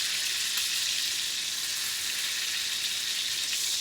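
Herb-seasoned goat chops fry fat-side down in a pan with a steady, bright sizzle and crackle, close and constant with no pauses, and no one talking.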